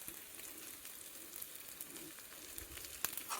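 Small pieces of tamarind frying in a pan for a chutney give off a steady, soft sizzle with faint crackles throughout and one sharper pop near the end, with no talking.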